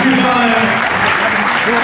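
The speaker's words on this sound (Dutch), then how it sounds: "mag ik ook van de gelegenheid gebruik maken om vast uw applaus te vragen voor de wedstrijdleider van vandaag" A dance-competition audience claps in a dense, steady wash of applause for nearly two seconds while a voice talks over it.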